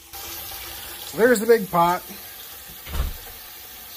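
Tap water runs into a big, 12-inch-deep cooking pot in a kitchen sink, a steady rushing stream heard under a person speaking.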